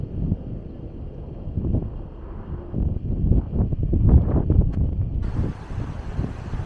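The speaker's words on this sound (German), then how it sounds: "hier geht es dann ein bisschen windiger zu" Wind in Maspalomas, Gran Canaria buffets and rumbles against the microphone, gusting louder in the middle before settling into a steady outdoor hiss.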